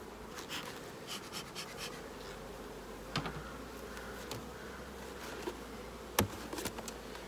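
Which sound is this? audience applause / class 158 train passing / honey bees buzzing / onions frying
honey bees buzzing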